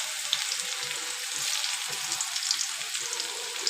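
Red chillies and chopped garlic fry in oil, a soft steady sizzle with light bubbling crackles and faint stirring taps, fairly quiet and close.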